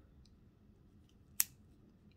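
A single sharp snip of scissors cutting excess thread on a beaded napkin holder, close and brief, over a quiet room background.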